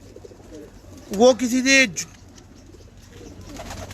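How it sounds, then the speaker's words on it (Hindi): Racing pigeons at a rooftop loft in the UAE give one short, loud coo lasting about a second, with people talking around it. "ये कबूतर है"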